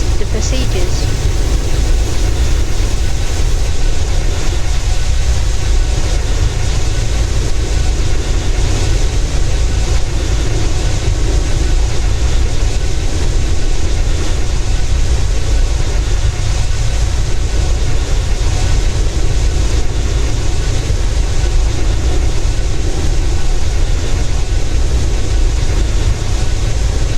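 An aircraft takes off in the Aeronautica video game, with a steady, loud, unbroken engine roar and rushing noise holding for the whole stretch.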